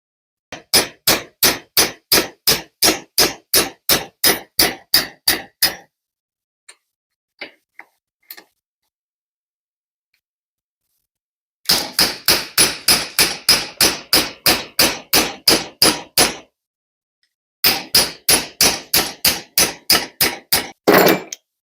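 Hammer blows punching pins out of a BMW E30 steering knuckle, loud close metallic strikes in fast steady bursts of about fifteen to twenty hits each, separated by a few faint taps and a quiet pause.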